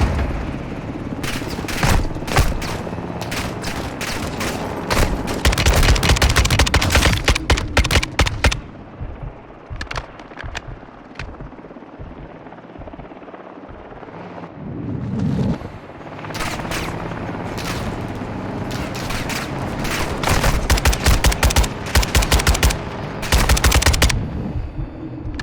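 Light machine gun fire in a video game on veteran difficulty: long loud bursts of rapid automatic shots, a quieter lull with distant booms in the middle, then more sustained bursts near the end.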